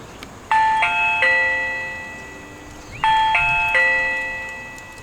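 A Reolink battery video doorbell chimes twice, each press giving a clear ringing multi-tone ding-dong that decays slowly, heard close and alone over a quiet background.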